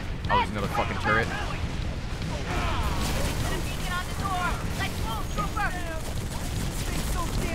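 Rapid gunfire from the video game Halo 3: ODST, dense bursts and volleys of shots running continuously with someone talking over the action throughout.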